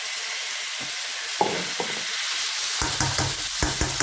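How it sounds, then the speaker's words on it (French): Vegetables and meat with a spoonful of mustard simmering and sizzling in a pan, with a steady frying hiss and occasional scrapes and clinks of a utensil stirring, close by. "Je laisse mijoter un peu."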